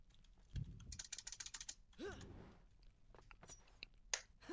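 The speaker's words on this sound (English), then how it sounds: "I hope you're enjoying the sounds of me mashing my keyboard because I know it's pretty loud." A computer keyboard is mashed rapidly during a Prince of Persia: The Two Thrones speedrun, producing dense bursts of clicky key clatter, fairly faint, with a brief voice sound partway through.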